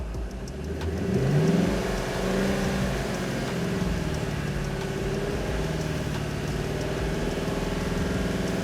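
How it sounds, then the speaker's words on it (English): A car engine is raised from idle and held at a steady 2500 RPM, a loud, close, continuous hum that climbs briefly and then stays level, with no talking. "increase engine speed to 2500 RPM and hold it"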